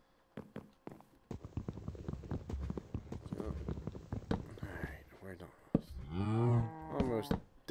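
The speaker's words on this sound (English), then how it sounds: "These cows are a very, very valuable resource on this map." Cows in the Minecraft video game moo, a low drawn-out bellow near the end following soft game sounds, while someone talks over much of it.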